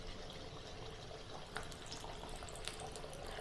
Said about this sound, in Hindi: ऑयल हो गया है, अब हम इसमें एक एक करके धीरे धीरे डाल देते हैं।